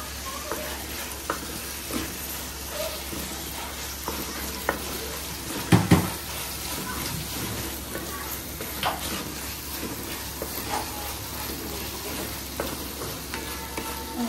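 Chicken pulav cooks in a pan at home while mint and coriander are added, giving a steady, close sizzle with scattered clinks and stirring scrapes and one louder utensil knock partway through.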